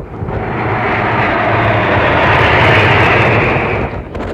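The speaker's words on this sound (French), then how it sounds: "Et là, un autre avion t'a survolé" RAF airplane passing low overhead a sailing yacht at sea during a transatlantic race, a loud, broad engine roar that swells steadily, holds, and starts to fade at the end.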